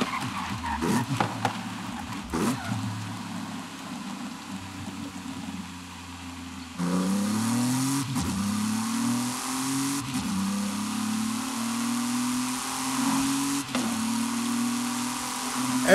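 A car engine revs and accelerates in the racing game Forza Horizon 5, rising gear pulls and tire squeals repeating over sixteen seconds, with a quieter idle stretch before the engine surges louder.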